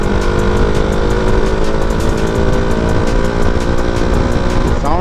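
A KTM RC 200 BS4 motorcycle engine runs loud and close on an Independence Day group ride, a steady buzzing drone with sharp rhythmic exhaust pulses and a slight rise in pitch at the end.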